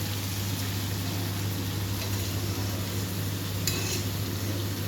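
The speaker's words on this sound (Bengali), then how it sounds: "এখন ভালো করে ভেজে নিচ্ছে" A mixed vegetable curry with potatoes fries in a pan, giving a steady, even sizzle with faint occasional scrapes of stirring, no voices over it.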